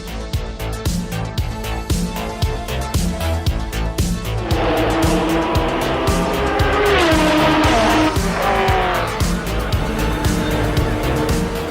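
Porsche 956/962 racing car at speed on a track, its engine roaring loud and close throughout with steady gear-change pulses, rising and falling revs and a brief tire squeal in the middle.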